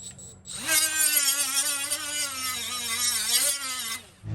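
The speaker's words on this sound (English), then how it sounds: "with this disc, I'm going to clean off all the mill scale to where I get a nice weld" A heavy-duty coarse abrasive disc spinning against steel to clean off mill scale, giving a loud, steady, high grinding whine that starts abruptly and holds for several seconds before easing off.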